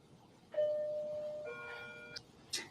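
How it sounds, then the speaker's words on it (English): A residential doorbell sounds a two-tone electronic ding-dong, one clear sustained chime followed by a second lower tone, with small clicks after. The sound is moderately loud over quiet outdoor background. "So I'll just keep ringing the bell."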